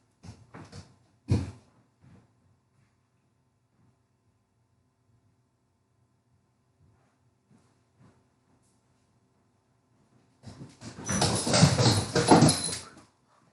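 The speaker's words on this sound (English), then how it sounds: "I got jump scared by a puppy." A puppy whimpers and barks indoors, with a short burst near the start, then quiet with faint movement, then a louder extended run of yelps and whimpers near the end.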